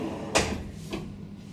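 Two quick wooden knocks about half a second apart, like a drawer sliding shut and bumping closed, nearby and moderately loud.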